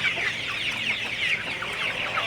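Sonali super hybrid chickens on a farm cluck continuously, a busy flock chorus at moderate distance with overlapping calls and no one speaking.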